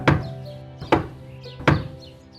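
Three firm knocks land on a door at an even, unhurried pace, each a short hollow thud that rings briefly before the next, close and clear with no voices.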